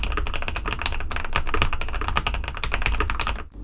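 Fast, steady typing on a modded CM Storm Quickfire mechanical keyboard, with dense clacky keystrokes close up, alone and without talk.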